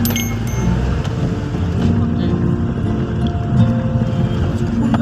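A car edges slowly along a narrow, winding road toward a scenic viewpoint. A continuous low engine and road rumble runs for about five seconds, with another sound layered over it throughout.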